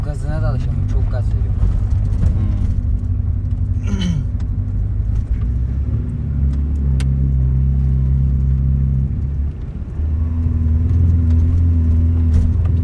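Car engine held at high revs with heavy throttle, a steady low droning rumble that dips briefly and climbs again, running alongside people talking inside the car.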